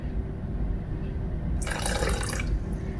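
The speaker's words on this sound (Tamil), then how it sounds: "இன்னும் கொஞ்சம் தண்ணி ஊற்றலாம்." Water poured from a glass into a batter for chicken rendang, a short splashing pour lasting about a second over steady background noise.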